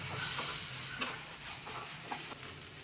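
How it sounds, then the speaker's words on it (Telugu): Lady's fingers (okra) and dry prawns stir-fried over a high flame give a steady close sizzle, broken by soft scraping stirs and a few small clinks, with no voices. "ఇప్పుడు హై ఫ్లేమ్లోనే ఉంచుకొని చక్కగా తిప్పుకుంటూ ఫ్రై చేసుకోండి."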